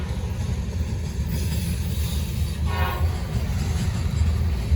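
Norfolk Southern freight train passing with a steady low rumble throughout and a brief horn toot midway; leading unit working with the trailing locomotive offline, moderately loud and close, no talk.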